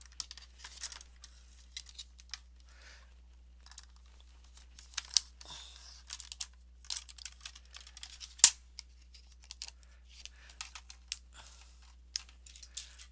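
Paper being cut with scissors to form a straight edge while making a simple booklet, a quiet irregular run of snips, crinkles and rustles, close and faint, with one sharper click, no talking.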